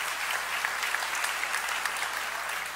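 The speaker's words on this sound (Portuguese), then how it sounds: "Você pode aplaudir ao Senhor" A church congregation applauds, a fairly soft, even patter of many hands clapping throughout, with a few sharper individual claps poking through the wash.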